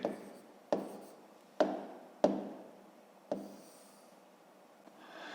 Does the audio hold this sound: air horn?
no